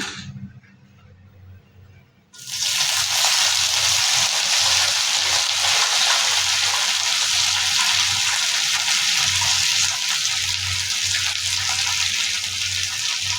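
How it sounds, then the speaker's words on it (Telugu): Mint leaves hit hot oil after a quiet start, setting off a sudden, loud crackling sizzle that stays strong and steady to the end, with no one speaking. "ఇప్పుడు ఇదే నూనెలో ఇంకొక అదే నూనెలో నేను కొంచెం పుదీనా వేసుకుంటున్నాను"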